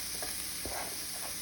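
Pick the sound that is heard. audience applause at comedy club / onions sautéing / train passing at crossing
onions sautéing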